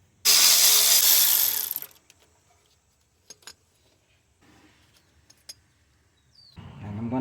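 A ratchet clicks on 10mm bolts on a 2004–2012 Nissan Murano AWD engine, a few short sharp metallic ticks after an opening burst of broadband noise, close by in an otherwise quiet space.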